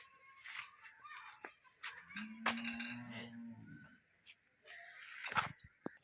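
A pregnant HF crossbred cow gives one drawn-out low moo at moderate distance, with scattered clicks and faint bird calls around it.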